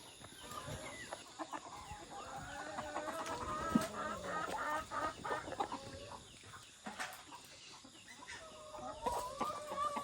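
Several chickens cluck and chatter continuously at close range inside their backyard coop, their overlapping calls rising and falling, with occasional rustling and knocks.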